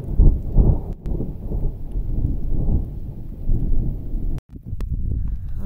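Thunder rolls during a storm on a mountain ridge, deep low rumbling that swells and fades across the stretch with a brief cut in the middle, heavy and close without voices.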